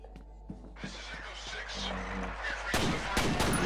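Several sharp gunshot cracks from a video game, a few spaced single shots then a louder burst near the end, over a steady game background hum.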